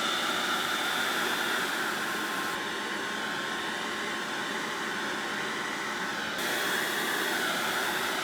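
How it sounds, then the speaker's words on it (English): A hairdryer blows on a painting in a steady, loud airy roar that lasts throughout, with a slight change in tone partway through and no talking. "Sorry, I am using the other hairdryer now."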